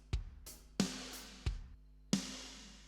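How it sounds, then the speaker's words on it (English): A snare drum with 80s-style gated reverb in a Logic Pro X cover: four punchy hits alternating with kick thumps, each burst of reverb cut off abruptly, isolated and clear. "Gated reverb for that very 80s snare effect."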